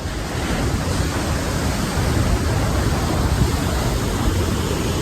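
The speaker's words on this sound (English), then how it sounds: "Oh, look at those waves." Ocean waves crash and surge continuously close by, a dense roar of surf that stays loud and steady throughout, with no talk over it.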